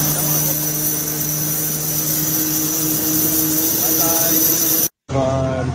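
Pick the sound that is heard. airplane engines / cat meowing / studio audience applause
airplane engines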